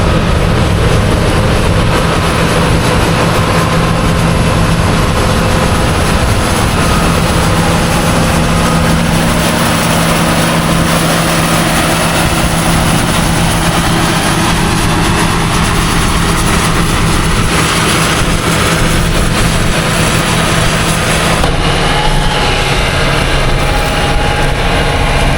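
A 9770 machine running up a farm paddock, a loud continuous heavy engine drone with steady low rumble and broadband noise, unchanging throughout with a slight shift near the end.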